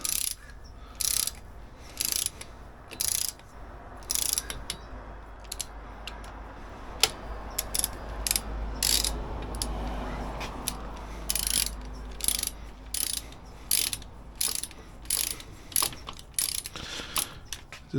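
A ratchet snugs bolts on a small block Chevy engine: close, crisp bursts of rapid clicking that repeat in a steady rhythm, with short pauses between strokes and no voices.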